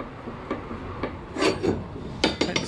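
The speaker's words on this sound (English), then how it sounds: "Take the sander around and do that." A sander works a porthole mounting flat on a sailing boat project, giving a series of short rasping strokes of uneven length, close and moderately loud, separated by brief pauses.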